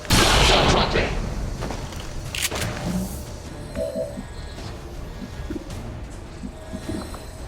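A shard gun fires in the tactical video game XCOM Long War of the Chosen, one sharp loud burst at the start followed by quieter impacts, clattering and scattered game effects.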